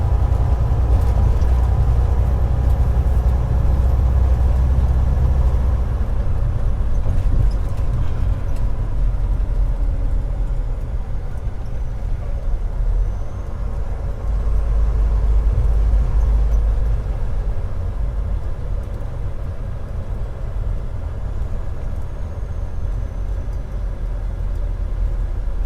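Truck driving through an underwater tunnel beneath the sea, a steady low engine and road rumble filling the enclosed space, with swells of louder passing traffic and no talk.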